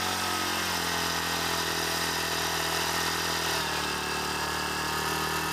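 The motor of a powered BikeE recumbent drones steadily on a test stand, a loud continuous whine whose low tone drops slightly partway through as it slows.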